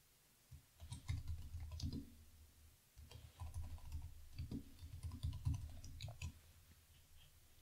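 Rapid clattering keystrokes on a computer keyboard while coding, in close bursts with a short pause near the three-second mark, fairly quiet and with no talking.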